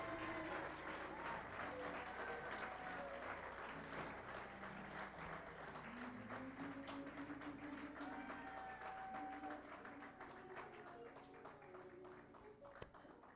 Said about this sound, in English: You all can keep clapping for them.